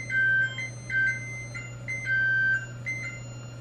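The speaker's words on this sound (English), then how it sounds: "That's my oven letting me know that the cookies are ready" A kitchen oven beeping that baked cookies are ready: four bright electronic beeps in a regular pattern, each held briefly, clear and close over a low steady hum.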